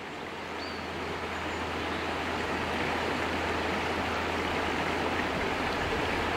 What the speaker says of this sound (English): just walk down to the river, just sit, listen to the water